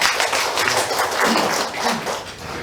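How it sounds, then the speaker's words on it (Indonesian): A church congregation at a Sunday worship service claps together for a ministry leader, a dense, steady patter of many hands filling the room at close range with no voices over it. "kita boleh tepuk tangan sama Ibu Afung."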